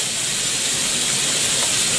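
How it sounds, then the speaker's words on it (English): Constant broadband whoosh of a kitchen extractor fan running steadily, loud and unbroken. "Ooh, we'll put the fan on."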